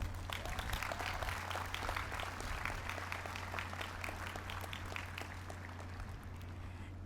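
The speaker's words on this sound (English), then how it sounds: "Let's give them all a round of applause." Graduation audience applauding at Plano East Senior High School's 2021 ceremony, a steady wash of many hands clapping at moderate distance, sustained for several seconds over a low constant hum.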